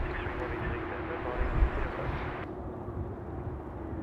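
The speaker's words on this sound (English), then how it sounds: "Qantas A380 dropping in there at 34 left." A Qantas A380 airliner descends to land on runway 34 left at Sydney Airport, its broad jet rumble steady and fairly distant. A gust-like swell comes midway before the noise thins out.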